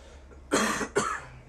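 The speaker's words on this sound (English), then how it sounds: "Just had to cough really there." Two short, sharp coughs in quick succession, close and fairly loud, with quiet room tone around them.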